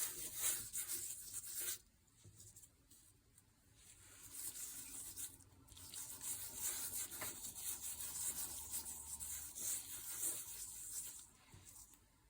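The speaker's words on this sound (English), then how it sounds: "I could just put gold there and then rub it in the gold" Fingers rub gold leaf onto a dry autumn leaf in a steady, soft, close-up scratchy friction that eases briefly and then resumes continuously.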